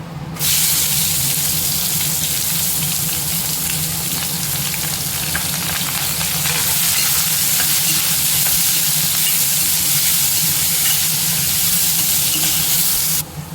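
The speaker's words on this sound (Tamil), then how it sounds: "வெங்காயம் வதங்கிருச்சு ஓரளவுக்கு" Onions and tomato with cloves frying in a pan for Tamil-style egg kurma, a loud continuous close sizzle with steady stirring and steamy hiss that starts abruptly and runs unbroken, no talking.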